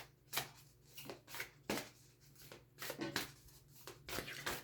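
Tarot cards are shuffled and handled in a quiet room. Soft, papery riffles and slaps come in a loose, steady rhythm of short bursts, close by and faint, with no talking.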